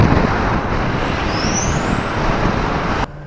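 A truck towing an empty trailer rolls along a road, its broad steady engine and tyre rumble filling the scene until it drops away abruptly near the end, with a faint rising whine above.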